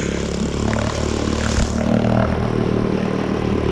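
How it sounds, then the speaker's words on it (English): A camera drone flies near boats by the water, giving a steady buzzing propeller whine that holds at a loud, even level against constant outdoor noise. "I'm quickly going to throw the drone in the air while we test these boats"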